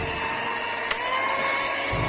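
An electric mixer beats steamed-bread batter at high speed, making a continuous loud whirring hum with one brief click partway through.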